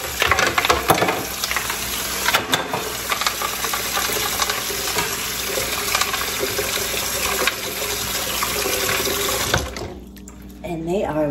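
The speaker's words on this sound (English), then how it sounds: "I'm gonna put some ice cubes in there." Ice cubes dropped into cold water in a home kitchen: running water hisses steadily while a few hard clinks and knocks stand out near the start, then the sound drops off near the end.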